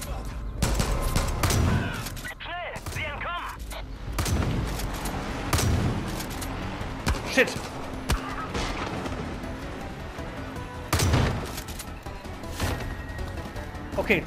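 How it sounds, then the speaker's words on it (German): Gunfire from the video game Far Cry 5: a rapid burst of shots and bursts of automatic fire echo across the scene, loud and repeated, with a voice exclaiming over the action. "zwei Schüsse haben nicht gereicht"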